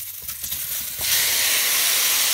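Mushrooms dropped into a hot pan for a quick saute, a steady broad sizzle that swells abruptly about a second in and then holds loud and close with no talking.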